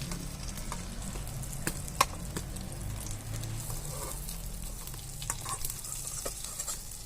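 Shami kababs fry in ghee with a steady, close sizzle. Scattered clicks and scrapes from stirring or turning the kababs sound over the constant crackle, and no one speaks.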